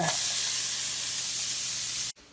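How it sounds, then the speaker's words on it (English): Cooking oil sprays into a hot pan in a steady loud hiss lasting about two seconds, then cuts off abruptly, leaving a faint room tone. "Next, get the pan hot. Spray some oil on there."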